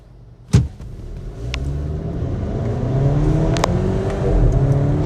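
A 2026 Volvo XC40 B5 AWD accelerates from 0 to 60 as heard from inside the cabin: a thump opens the run, then the engine's tone climbs in a steady rising whir and rumble that grows gradually louder through several gear changes.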